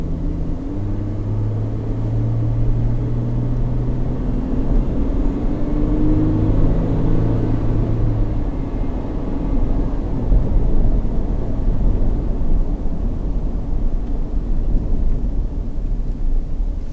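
A Ford Everest V6 Wildtrak engine pulls up a hill, a steady low rumble from inside the cabin that holds constant with a slight rise in drone throughout.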